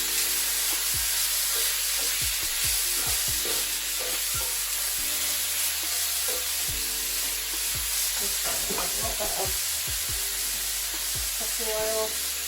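Chunks of jackfruit sizzle and fry in a hot pan for Asian BBQ jackfruit, a steady loud crackle running throughout with occasional stirring clatter and no talking.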